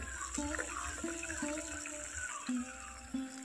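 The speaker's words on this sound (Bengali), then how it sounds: "এইভাবে একটা একটা করে এই ফুটন্ত জলের মধ্যেই আমি কিন্তু এই জল বড়াগুলো ছেড়ে দেব" Batter fritters of ridge gourd being dropped one at a time into boiling water, with bubbling water running throughout and a few soft plops at irregular intervals, close and moderately loud.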